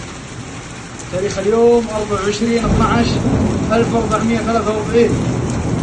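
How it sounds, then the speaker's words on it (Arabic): Heavy rain pours steadily in Al-Soudah, with someone speaking over the downpour throughout; no distinct thunderclap stands out, only a constant wash of rainfall. "صواعق رعدية عنيفة الآن مع أمطار غزيرة"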